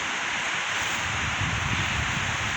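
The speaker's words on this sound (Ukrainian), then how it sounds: "дуже дуже вітер, дуже." Strong winter wind in a forest buffets the microphone in a continuous roaring rush, loud and close, with low rumbling gusts and no other sounds.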